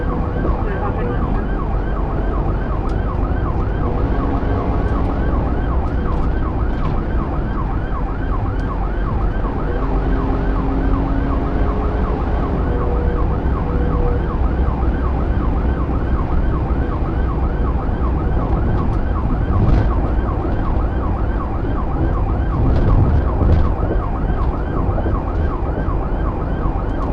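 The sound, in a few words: police car siren during high-speed pursuit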